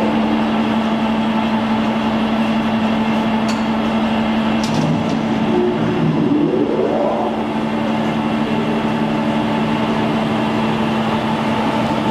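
A Blanchard #22K-42 vertical spindle rotary surface grinder powers up with its chuck switched on: a steady electrical hum and machine drone, a couple of faint clicks, and a tone sweeping upward as the motor comes up to speed.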